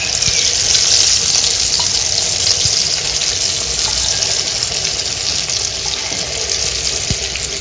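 Unniyappam batter sizzles in hot oil, a loud continuous frying hiss with faint crackles, close and without talk.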